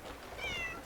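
A single short, clear meow comes from a longleaf forest cat in the game Crimson Desert, heard alone over a soft background hiss.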